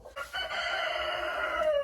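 A hen gives a drawn-out, loud cackle close by after a brief quiet start, its tone wavering and rising toward the end, sounding like a chicken in a henhouse with laying nests.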